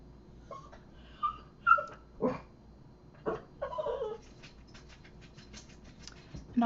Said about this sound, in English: it's nothing wrong with my dog